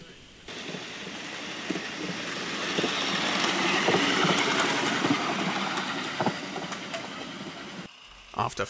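A miniature live steam locomotive works hard around a track at the IMLEC 2021 efficiency competition, a rolling, chuffing rumble swelling louder mid-pass then fading, with clanks and knocks mixed in.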